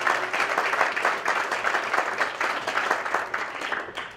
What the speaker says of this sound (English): Give God a good hand clap.